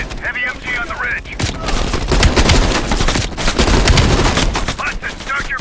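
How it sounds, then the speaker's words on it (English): Heavy machine gun fire from a ridge in Call of Duty Cold War: loud, close, sustained rapid bursts that build and roll on for several seconds, with softer tones at the start and end. "Watch it, heavy MG on the ridge."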